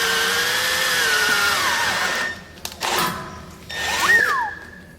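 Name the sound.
power drill drilling on BMW E30 brakes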